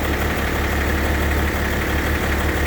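A diesel D-17 tractor engine idles steadily and loudly up close, its low, even chugging running without a break and with no voices over it.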